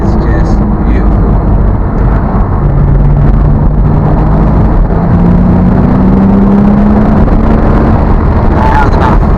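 A Porsche Boxster S engine revs hard while accelerating, a loud continuous drone with rising pitch as it pulls through the gears, heard from inside the car with heavy wind rush.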